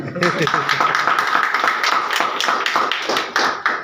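An audience at a business training seminar bursts into loud, dense applause, many hands clapping together in a steady burst for a few seconds.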